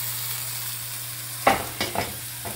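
Beef browns in a hot pan for Brasato al Barolo, a steady sizzle with a few louder hissing bursts as pieces are stirred and flipped.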